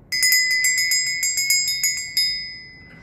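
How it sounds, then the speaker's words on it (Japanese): A bronze dotaku bell replica is struck about a dozen times in an even rhythm, each bright metallic ring overlapping the last before a final stroke fades out alone. "いい音ですね。"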